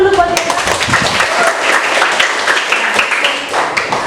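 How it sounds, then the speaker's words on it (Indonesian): Students applaud in a classroom during a practice teaching session, a short burst of close, uneven hand claps mixed with some chatter. "tepuk tangan dulu buat kita"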